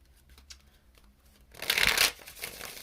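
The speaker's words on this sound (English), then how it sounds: "sometimes I shuffle while I'm talking" A deck of cards is shuffled close up in a quiet room, a brief, crisp riffle burst rising sharply after faint handling ticks, then tapering off.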